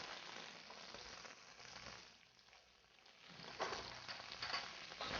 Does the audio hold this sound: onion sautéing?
yes